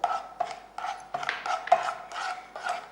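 Spoon stirring jelly crystals into condensed milk in a heated pan, giving about eight close, steady scraping strokes in an even rhythm.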